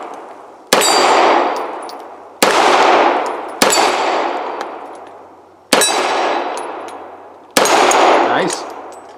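Five loud, sharp pistol shots from a Girsan Regard MC, a Beretta 92FS clone, fired one at a time at uneven intervals of one to two seconds, each ringing out with a long decaying echo.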